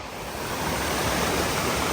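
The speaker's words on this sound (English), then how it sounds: "So the waterfall is just up through there," Waterfall at Middle Creek Falls in North Carolina's Black Mountains, a steady, loud, broadband rushing roar of falling water that holds constant throughout, with no voices.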